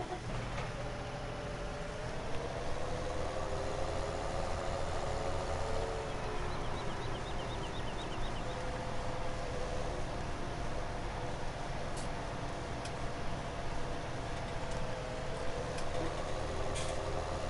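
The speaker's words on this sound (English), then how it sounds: "Okay, let's get back in this tractor." A farm tractor idles in the Farming Simulator 17 video game, giving a steady, low mechanical drone that runs evenly throughout with a few faint clicks and no talking.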